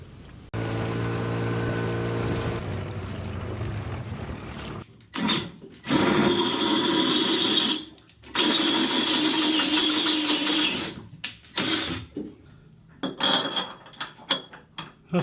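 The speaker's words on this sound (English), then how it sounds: "Drill the hole, see if it all works." A power drill bores a hole on a sailboat for a rudder fitting, starting with a rising whine, then long loud whirring runs broken by brief pauses and shorter bursts near the end, close up with no speech.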